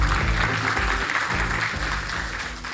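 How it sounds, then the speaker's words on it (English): A crowd at a Salesforce investor day event gives a short burst of applause, steady clapping that tapers slightly toward the end. "Big round of applause."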